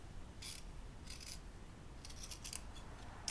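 Scissors trimming fabric for a tailor's ham, several quiet crisp snips in quick succession, close and faint with no talk.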